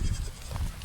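A brief, close goat bleat with a rough, wavering tone over steady outdoor background noise.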